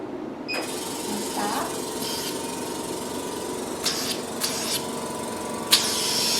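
A diamond dermabrasion machine runs with vacuum suction and water flow, giving a steady whirring motor hum under a soft hiss, broken by a few short clicks and brief bursts.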